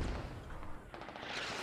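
Mortar fire booms in a military video game, with dense, rumbling blasts that roll into one another over a short stretch and a heavy low-end thud throughout.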